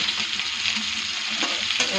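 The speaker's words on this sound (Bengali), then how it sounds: "ভালো করে একটু ভাজা ভাজা করব।" Chopped tomato and potato with turmeric and salt fry in a pan, a continuous close, loud sizzle with faint scraping strokes from stirring, steady throughout.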